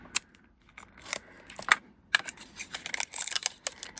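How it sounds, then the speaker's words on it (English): Strips of tape pulled and pressed down to hold a stencil flat on a craft surface: a run of sharp, close crackles and ticks, some quick and clustered, with brief pauses between. "I am just going to use some tape here to hold it down"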